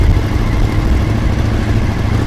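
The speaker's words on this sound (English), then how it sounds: "this SV Yoshi exhaust" A Suzuki SV motorcycle fitted with a Yoshimura exhaust runs steadily nearby, a loud continuous low engine rumble with no clear revving, among other bikes lined up at a charity ride in Ottawa.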